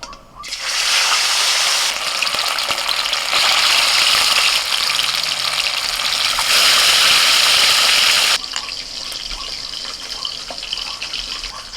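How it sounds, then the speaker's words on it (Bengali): Fish frying in very hot oil gives a loud, steady, roaring hiss that runs for several seconds and then cuts off abruptly, leaving quieter kitchen background. "তেলটা খুব গরম হয়ে গেছে, এবার একে একে মাছগুলোকে ভেজে নেব"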